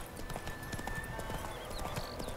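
Horse hooves from The Witcher 3 clip-clop in a steady, quick rhythm at moderate loudness beneath faint ambient game sound, with no speech.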